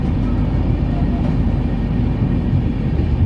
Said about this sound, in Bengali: আমাদের ট্রেন দীঘা থেকে ছেড়ে বেরিয়ে গেল একদম ডট টাইমে